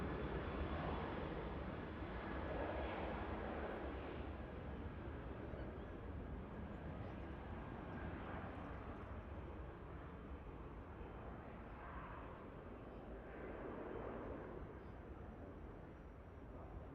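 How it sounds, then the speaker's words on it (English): Steady, rumbling jet-engine roar of an aircraft departing Manchester Airport for Bologna, a continuous low broadband drone heard from a distance that holds level for the whole stretch with only slight swells. "this is the aircraft heading down to Bologna"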